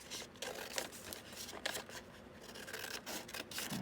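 Scissors snipping through a paper square for a folded envelope, a steady run of close, crisp cutting and rustling strokes with no voice.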